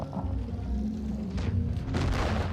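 A T29 tank cannon fires in World of Tanks Blitz, producing heavy booming thumps over continuous low engine rumble, with a couple of blasts in quick succession during a short stretch of gameplay.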